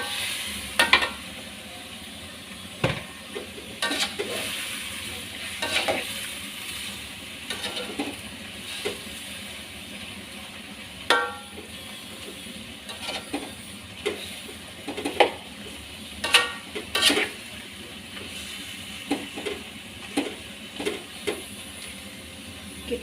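Green beans and beef skin sizzle in a wok for a spicy stir-fry, a steady frying hiss broken by frequent sharp clicks and scrapes of stirring, fairly close and moderately loud with no voices.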